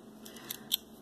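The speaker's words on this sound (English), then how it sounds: "I cut the edges with these scissors" A few soft, crisp snips of scissors through paper, quiet and close, with short pauses between cuts.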